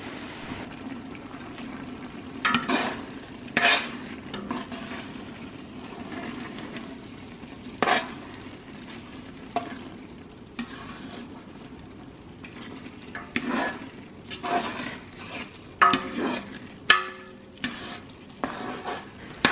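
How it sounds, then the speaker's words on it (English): Onions softening in melted butter in a pan on the stove, a steady low sizzle under intermittent scraping and clacking stirs, close and fairly loud throughout, with no talking. "At this point, it's been on the stove for about 15 minutes. The butter has melted and the onions are starting to sweat."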